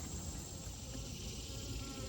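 Honey bees hum in an open hive during an inspection, a continuous, soft, even buzz of many insects held steady throughout with no speech.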